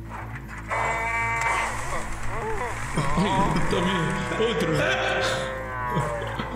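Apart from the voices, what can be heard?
tractors mooing like cows in the film Cars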